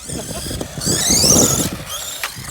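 A WLToys A979 1/18 RC monster truck with a 380 motor drives nearby with a rising and falling high electric whine, rough wheel and gravel noise underneath, and a few short voices mixed in.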